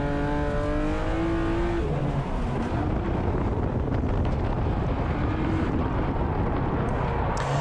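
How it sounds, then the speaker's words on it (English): Turbocharged race car engine at the Lone Star Bash climbing through revs, then a misshift breaks the harmonic tones into a rough, loud roar with heavy wind buffeting, close and continuous. "Ooh, he misshifted, that was sketchy."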